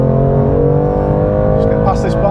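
A BMW M2 Competition engine drones steadily from inside the cabin as the car drives along, holding a continuous tone with a brief shift near the end while a person talks over it.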